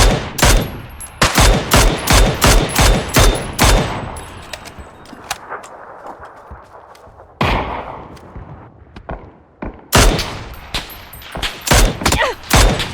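Rapid bursts of gunfire in the video game PUBG crackle loudly in clusters, pausing briefly before more volleys erupt, with scattered single shots between them.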